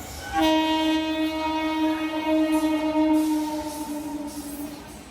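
Horn blasts loud and sustained as the Jaynagar–Amritsar Special express, hauled by a WP7 locomotive, passes nearby, with rail noise rumbling underneath as the train goes by.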